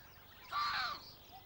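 A single harsh caw from a crow-like bird, heard once, moderately close against a quiet outdoor background.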